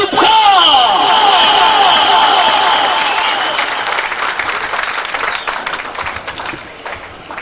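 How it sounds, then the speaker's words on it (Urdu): A crowd at a school golden jubilee and old students function applauds loudly to welcome MPA Akbar Ayub Khan, a dense burst of clapping that slowly fades over several seconds. "آپ کی بھرپور تالیوں کی گونج میں تشریف لا رہے ہیں MPA اکبر ایوب خان"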